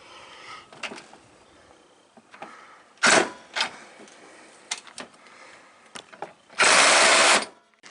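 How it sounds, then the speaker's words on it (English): Radiator mounting bolts on a 2007 Toyota Sequoia are driven tight with a power tool in short whirring bursts, separated by clinks and rattles of handling, ending in one longer loud burst. "Just got to tighten this one up."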